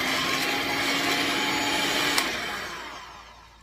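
An electric mixer whirs steadily as it beats a thick lemon cheesecake filling, a loud continuous motor drone with a small clack near the end before the sound tapers off.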